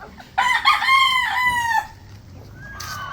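A rooster crows once in a long, loud, harmonic call that rises and then holds, followed by a softer, thinner trailing note, with faint farmyard background noise.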